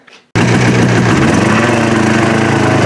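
A Mountain Max 600 snowmobile engine bursts to life after a brief quiet moment and runs loud and steady while riding, a close, continuous droning roar with a rapid pulsing beat.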